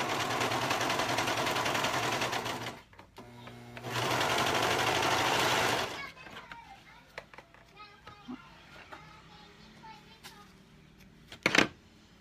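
Sewing machine stitching a woven dress bodice seam, two close bursts of fast steady whirring separated by a short pause, followed by quieter handling noises and someone talking, children faintly in the background.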